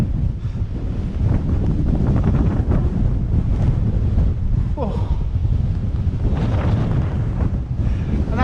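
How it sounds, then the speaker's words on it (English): Strong wind blows in off the nearby sea, roaring steadily into the microphone with a heavy buffeting rumble throughout, while a man briefly exclaims. "Bloody hell, it's windy. The wind's coming right from there."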